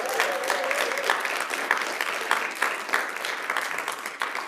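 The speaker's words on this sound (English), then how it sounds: "Round of applause from the people here for the people watching via the live stream" A theatre audience applauds in a brief burst, many hands clapping together at steady strength throughout, alone without voices.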